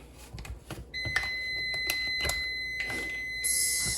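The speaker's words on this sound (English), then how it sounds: "Timer for another thing I got going on." A kitchen timer goes off during home baking of chocolate pumpkin muffins and apple dumplings, giving a steady, bright electronic tone that starts suddenly and rings without pause to the end over faint kitchen clatter.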